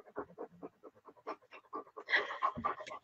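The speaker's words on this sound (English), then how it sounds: "Can you hear this heavy breathing going on?" A dog pants heavily and rhythmically up close, quick ragged breaths repeating for a few seconds and growing busier toward the end, with no talk over it.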